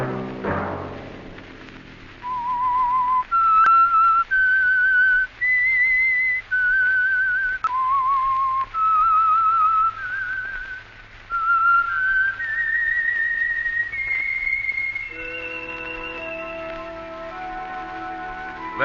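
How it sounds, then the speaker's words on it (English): A lone whistler plays a slow, eerie melody of sustained notes with gliding pitch, clear and close against a low background hum, ending in soft music, as the theme of 1952 radio drama The Whistler. "Let that whistle be your signal"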